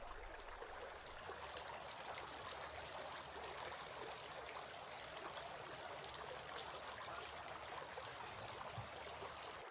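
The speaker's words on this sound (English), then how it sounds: "Then he sniffed water into his nostrils using his right hand and blew out using his left hand 3 times." Steady running water, like a tap pouring continuously during ablution washing, a soft even stream that stays constant throughout with no voices.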